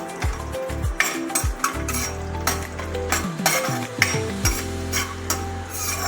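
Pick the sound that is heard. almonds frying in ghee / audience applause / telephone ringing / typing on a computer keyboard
almonds frying in ghee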